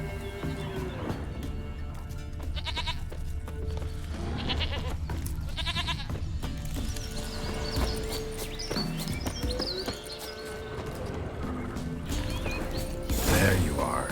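A goat bleats several times in The Witcher 3, short wavering cries over a low ambient game soundscape, with a louder burst near the end.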